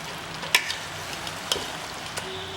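Mutton and masala fry in ghee with a steady soft sizzle, a few sharp clicks and stirring knocks on top, close and fairly quiet, no talking.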